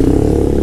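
A Scomadi 200 cc scooter on its standard exhaust gives a brief, loud, steady engine roar at close range, a low buzzing drone with no voices over it.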